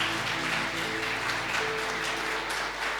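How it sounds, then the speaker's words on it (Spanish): A church congregation applauds, a dense, steady burst of clapping close by that lasts the whole moment, with a faint tonal hum underneath and no voices on top. "vamos a brindarle también un fuerte aplauso a aquellos que nos ven a través de la pantalla"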